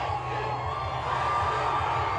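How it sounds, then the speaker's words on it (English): A dense crowd at the Oklahoma City Thunder's NBA championship parade cheers and shouts continuously, a loud, sustained roar of mixed voices with whoops and children's shouts. "Oh, the crowd is going crazy."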